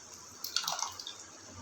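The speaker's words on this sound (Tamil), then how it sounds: "லெமன் சாறு கொஞ்சம் புளிஞ்சு விட்டுக்கலாம்." Lemon juice is squeezed into a biryani base of sautéed onions, tomatoes and yogurt, giving one brief, faint drip and splatter of liquid over a quiet kitchen background.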